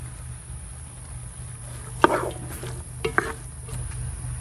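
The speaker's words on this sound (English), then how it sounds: "saute this down till the onions get clear" Onions, garlic and celery sautéing in a pot for crawfish étouffée produce a steady close sizzle, broken by a few sharp stirring scrapes and clacks of the spoon, with no one speaking.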